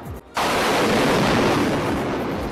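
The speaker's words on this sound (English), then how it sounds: "3 powerful blasts hit the city centre" Loud, dense explosion roar from bomb blasts in central Baghdad as part of a Sky News intro, a short gap then a sustained broadband rumble filling the rest.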